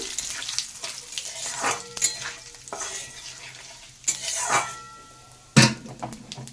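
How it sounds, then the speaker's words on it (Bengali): Cumin seeds and bay leaves hit hot oil in a pan with bursts of sizzling and crackling, punctuated by sharp clinks of a utensil against the pot, loud and close with no talk. "তেলটা গরম হয়ে গেছে দিয়ে দিলাম জিরা তেজপাতা"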